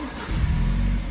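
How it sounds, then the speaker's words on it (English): A BMW 420i M Sport convertible's engine fires up and settles into a steady, close, low rumble, heard inside the car with the roof closed. "Fire up the engine."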